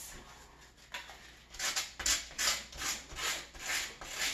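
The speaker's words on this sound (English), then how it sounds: "This is just a fine grit sandpaper, just sanding off all that excess." Rhythmic sanding strokes on a door with fine-grit sandpaper, a raspy scratchy rubbing repeated back and forth about twice per second, close up and fairly quiet.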